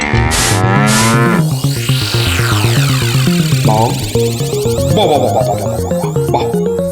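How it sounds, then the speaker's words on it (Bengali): A well-fed bull lows loudly and close in a long, drawn-out, wavering moo that continues without pause, up front and unaccompanied by voices, with a few sharp accents early on. "কি চমৎকার ষাঁড়, কি নধর দেহ, যেন তেল চুইয়ে পড়ছে"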